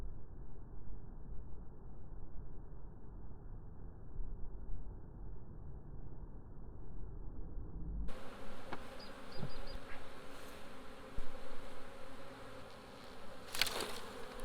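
A honey bee swarm moving into a hive buzzes continuously as a dense, steady hum outdoors, with individual bees droning closer at times.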